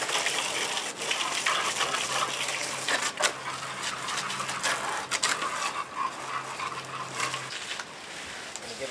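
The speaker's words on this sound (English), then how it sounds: "Now that everything is out of here, I can go ahead and rinse this thing off." Water gushes steadily while rinsing out an emptied container, a continuous close splashing rush with occasional knocks and clatters throughout.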